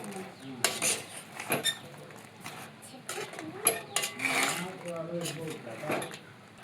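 Fried plantain pieces stirred through melted jaggery in a pan for Kerala sharkara varatti, with repeated scraping and clinking of a spoon against the metal pan in uneven bursts, close by, while a person talks over it.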